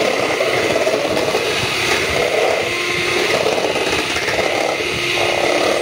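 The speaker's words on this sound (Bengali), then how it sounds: "এটা এখন ফাইনাল ব্লেন্ড করা হবে" A blender runs steadily at high speed for the final blend of homemade sweet yogurt (mishti doi). The whir is loud and continuous, with no pauses.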